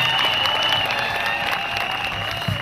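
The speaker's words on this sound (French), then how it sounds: "Applaudissez encore pour le Seigneur." Congregation applauding at an outdoor religious crusade in Dschang, a dense continuous wash of many hands, with sustained tones from music or voices running under it and a low thump near the end.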